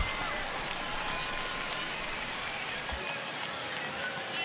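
A ballpark crowd in the MLB The Show 20 baseball video game roars in a steady, dense wash of cheering as the count reaches 3-2, moderately loud and continuous throughout.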